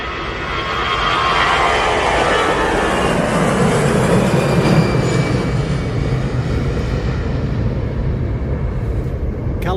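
An EasyJet airliner passes over Manchester Airport, its engines a loud, steady roar that swells in the first couple of seconds and holds broad and continuous throughout, with no voices.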